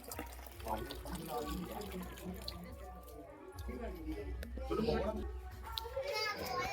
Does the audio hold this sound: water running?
yes